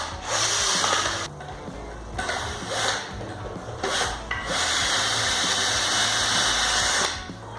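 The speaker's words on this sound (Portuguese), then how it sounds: "troca a ponteira da parafusadeira, pega um parafusão, encaixar aqui certinho. Bora parafusar." A power screwdriver drives large screws into a wooden frame for a big dog pen, with several loud whirring bursts separated by short pauses, each one grinding close up as the screw bites into the wood.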